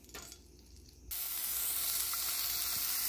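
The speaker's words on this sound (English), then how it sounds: "You can hear them sizzling nicely." A sharp burst of frying erupts after a moment, then holds as a loud, steady sizzle of food cooking in a hot pan.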